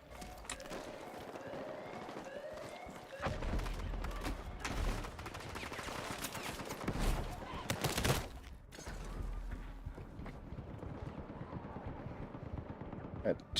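Battlefield 6 gunfire erupts in scattered bursts and heavier volleys, with sharp shots and rumbling impacts at varying distances, some close and loud, others distant, while a player talks intermittently over the action.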